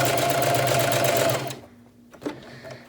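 A domestic sewing machine runs fast for free-hand embroidery, a rapid even needle clatter for about a second and a half, then stops and leaves a few faint clicks.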